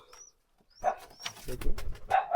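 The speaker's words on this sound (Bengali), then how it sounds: "এই যে আমাদের সিরাজি কবুতরগুলো" Sirazi pigeons give a few short, close coos among soft rustling and bumps in the loft, with quiet gaps between the calls.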